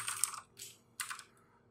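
Three short, soft clusters of keystrokes on a computer keyboard while writing code, close and quiet, with small gaps of near silence between them.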